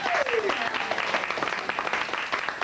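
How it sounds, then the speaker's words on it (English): Office staff give a round of applause in a workplace setting, a steady patter of clapping from a small group filling the room at close range, with a brief tone at the start. "Round of applause, I think."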